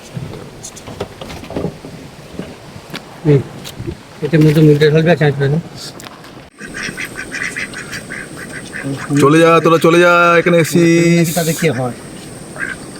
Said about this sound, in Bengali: সুন্দরবনের জঙ্গলে হাঁস আবার দেশি হাঁস দেশি হাঁস